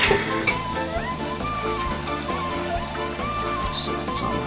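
Sauce sizzling and bubbling steadily in a pan on high heat while it reduces, a continuous close frying hiss with soft crackles and no talking.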